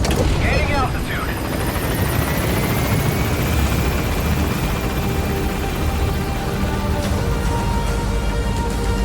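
A helicopter gains altitude in Metal Gear Solid 5, its heavy continuous rotor thrum and engine whine loud and steady, with a game voice speaking over it.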